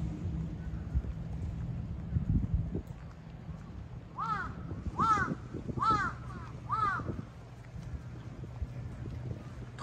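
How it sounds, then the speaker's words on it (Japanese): A bird calls four times in a row, a harsh repeated cawing, on a morning walk by the sea, over steady wind and low background rumble. "ホットくんの目の前に鳥がいます"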